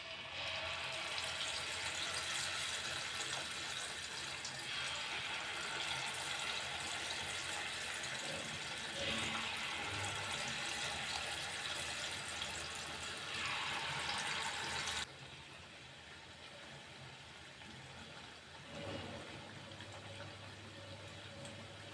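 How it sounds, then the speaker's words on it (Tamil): Moong dal sweet paniyaram batter fries in medium-hot oil over a low flame, giving a steady fine sizzle that runs for a long stretch and then drops to a quieter bubble. "நம்ம இப்போ எண்ணெயில் போட்டு எடுத்துடலாம்."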